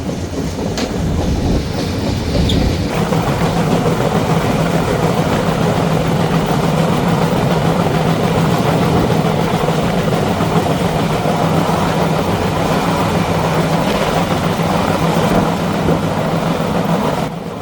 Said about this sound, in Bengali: এই মুহূর্তে বনলতা এক্সপ্রেস প্রবেশ করছে যমুনা রেল সেতুতে।